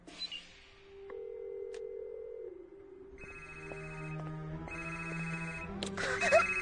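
A telephone rings out while calling a mobile phone, a steady electronic ring tone with repeated tonal bursts, fairly clear with some background sound and no speech over it.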